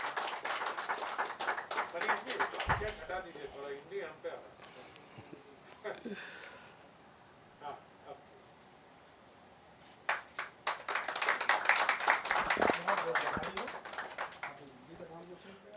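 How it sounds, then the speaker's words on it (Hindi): A crowd at an essay competition prize ceremony applauds a winner in two long bursts of dense clapping separated by a quieter stretch with scattered claps and some talk. "1 लाख रुपए वाली तालियां तो कम से कम आप लोगों की तरफ से मैं चाहूंगा"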